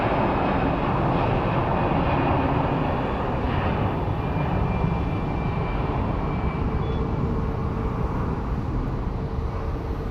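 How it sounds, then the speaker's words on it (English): An Allegiant A320 airliner on its takeoff roll at an airport gives a loud, continuous broadband jet roar that holds steady throughout. "on the takeoff roll, looks like it's an Allegiant that is headed to Stockton"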